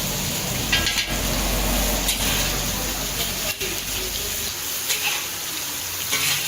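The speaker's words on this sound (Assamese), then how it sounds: "আনফালে মাংসত দিয়া আলুখিনিও ফ্ৰাই কৰি আছে বেলেগ এটা" Potatoes frying in oil in a separate karahi give off a soft, steady sizzle, fairly quiet and even, with a few faint clinks in the background.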